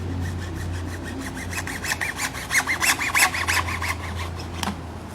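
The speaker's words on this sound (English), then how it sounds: "So we're going to cut this main line out." A saw cuts through a sprinkler main line pipe in a rapid series of close, scraping back-and-forth strokes that build up in the middle of the clip, over a faint low hum.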